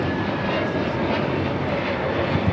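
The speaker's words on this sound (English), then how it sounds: "taking off the JFK, the A321neo, JetBlue Flight 724" A JetBlue Airbus A321neo takes off from JFK, its engines a continuous, even roar heard briefly, with a thin high tone above the rumble.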